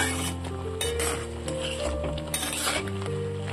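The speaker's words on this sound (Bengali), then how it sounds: "খুন্তি দিয়ে একটু নাড়াচাড়া করে নেব।" A spatula stirs Burmese-style mango pickle made with turmeric, chili powder and salt in a pan, giving steady scraping with light metallic clinks over a constant low hum and faint sizzle throughout, with no talking.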